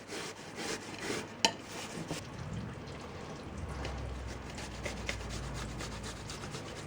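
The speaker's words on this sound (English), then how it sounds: "I'm going to take the red delicious and we're going to grate them" Peeled and cored Red Delicious apples rubbed against a grater, producing a soft, continuous rasping scrape in quick repeated strokes, with a sharp knock early on, close and fairly quiet.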